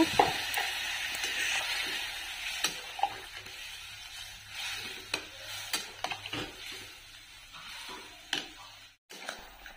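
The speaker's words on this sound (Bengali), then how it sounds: "সবজি ভাজা হয়ে গেছে, এখন আমি এখানে জল দিয়ে ভালো করে নেড়ে চেড়ে দেব।" Fried vegetables with water added are stirred in a cooking pan, giving a soft, steady bubbling sizzle with repeated light scrapes and taps of the utensil against the pan, close by and with no voices.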